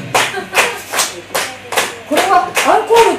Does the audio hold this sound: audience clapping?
yes